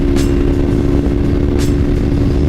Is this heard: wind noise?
yes